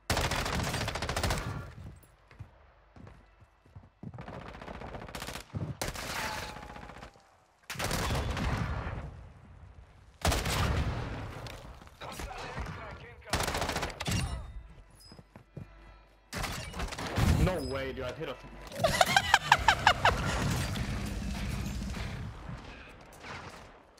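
Gunfire in Call of Duty Warzone on Rebirth Island: repeated bursts of automatic fire and single shots, loud and close, broken by short pauses, with a heavier sustained volley near the end.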